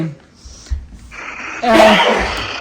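A single harsh, breathy cough bursts out loudly near the microphone after a brief, quiet murmur of voice.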